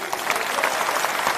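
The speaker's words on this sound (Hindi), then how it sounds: "एक जोरदार ताली" Audience applause in a hall at a state-level party workshop, a steady dense clapping that runs through the whole short stretch at a fairly loud level, with no voices over it.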